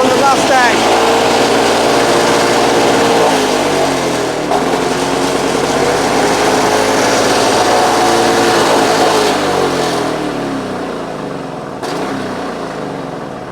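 Vintage Victa Mustang two-stroke alloy lawnmower engine catching on the first pull and running loudly and steadily nearby, with a high buzzing drone that fades slightly toward the end.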